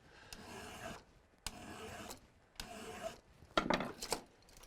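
Steel file rasping across the secondary points of an ice climbing tool clamped in a vise: four sustained strokes, close and loud, each about a second long, ending with a brighter clatter of metal.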